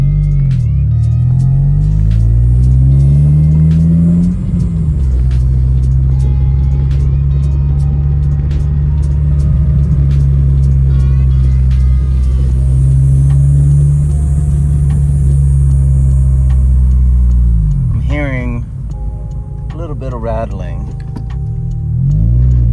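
A Honda Civic FA5 with a repaired exhaust and a VTEC engine revs loudly and close, holding a strong steady drone before the pitch swings up and down in sharp bursts near the end.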